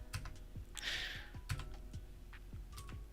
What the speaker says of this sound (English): Wait, that's Josh typing.